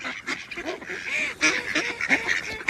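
A flock of hungry ducks quacks and honks noisily up close, overlapping calls coming in rapid, continuous bursts.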